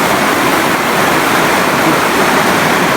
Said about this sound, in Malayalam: പുറത്താണ് നല്ല മഴയാണ്.